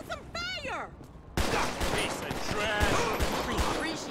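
A GTA 5 shootout on a gang-unit police patrol mod, with rapid close gunshots cracking in a dense burst under continuous chatter. Someone speaks briefly before the shots begin.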